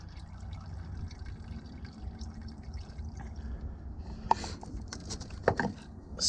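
Diesel fuel is poured into a truck fuel filter, a faint trickle over a low background hum, followed by a few sharper drips and clinks toward the end.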